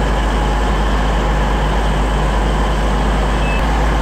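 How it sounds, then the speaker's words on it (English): A Trans-Pennine train pulls out of Liverpool South Parkway, giving a loud, steady rumble with a deep low hum. A faint tone briefly cuts through near the end. "departing now is going to be the 1732 Trans-Pennine service to Scarborough"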